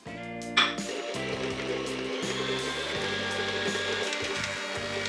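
An electric mixer beats softened butter for a French apple cake batter, a steady whirring drone with a sharp bump near the start and shifting motor pitch as it runs continuously.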